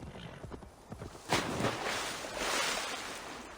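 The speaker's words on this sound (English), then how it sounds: "Swim, horsey, swim!" A horse in the video game Assassin's Creed Valhalla, its hooves clattering in a quick, steady patter with a washing, watery swish that swells midway, fairly close and without speech.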